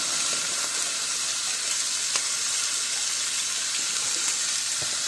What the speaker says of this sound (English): I'm going to go ahead and pour that in the crock pot as it warms up.